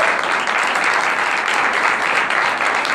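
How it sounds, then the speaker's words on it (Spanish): Steady audience applause at a horror and fantasy film festival presentation in Córdoba, a dense continuous wash of many hands clapping that holds loud and even throughout, with no pauses. "Aplausos."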